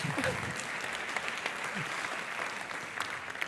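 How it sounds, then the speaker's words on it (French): A seated audience applauds at a science show in La Rochelle, a steady dense patter of many hands lasting the whole stretch without letting up. "Bravo, on peut l'applaudir."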